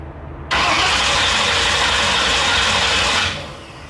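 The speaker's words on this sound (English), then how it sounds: "We're gonna hot wire just a starter right now" A hot-wired Ford Bronco engine turning over on its starter alone, with no ignition so it does not fire, gives a loud, steady mechanical cranking that begins abruptly, runs for nearly three seconds, then stops.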